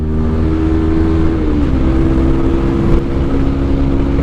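A sports bike engine roars close and loud on a ride, with a sustained, throaty drone whose pitch shifts slightly upward partway as the rider throttles on, and no talk over it.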